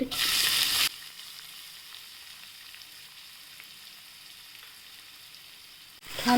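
Mustard seeds and cumin crackle in hot oil, then onion goes in for a ridge gourd vegetable dish. A loud sizzle bursts at first, settles into a quiet steady hiss, and flares up again at the end. No speech.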